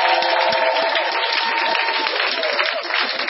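A church congregation bursts into sustained applause and cheering, a dense, steady wash of clapping that holds at an even loudness throughout, with a voice faintly audible underneath.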